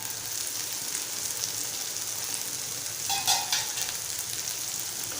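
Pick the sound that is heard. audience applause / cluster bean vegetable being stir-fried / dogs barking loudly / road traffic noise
cluster bean vegetable being stir-fried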